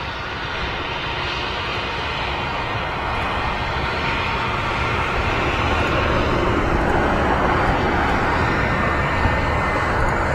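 A Ryanair Boeing 737-800 and then a British Airways A320 taxi past at Manchester Airport, their jet engines a steady, loud broadband roar that swells slightly as they go by, with no voices.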